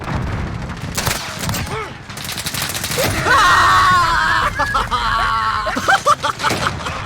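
Akimbo pistols fire in a Call of Duty Modern Warfare multiplayer match, loud rapid bursts of shots mixed with booms, game effects and chaotic noise, steady and dense throughout.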